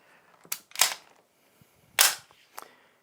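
Dry-fire trigger pull and break on a Girsan MCP35 pistol: a few crisp, close metallic clicks spaced irregularly over about three seconds, with near silence between them.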